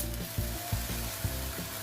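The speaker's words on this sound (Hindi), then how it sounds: "अब हम इसमें वाइट चावल डालेंगे।" White rice tipped into a pan of melted sugar sizzles and crackles steadily, with a few rhythmic scraping stirs standing out over the constant frying hiss.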